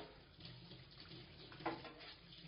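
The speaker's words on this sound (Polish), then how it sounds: "Zmywanie w wygodnym zlewie z wysokim kranem." Water runs steadily from a tall, half-bent kitchen faucet into a comfortable sink during dishwashing, a soft continuous splashing with one brief clink of a dish partway through.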